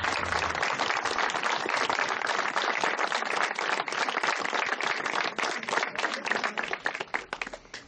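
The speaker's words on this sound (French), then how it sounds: "à applaudir les musiciens." An audience at a Normandy commemoration applauds the musicians, with dense, continuous clapping from a sizeable crowd that holds steady and then thins out near the end.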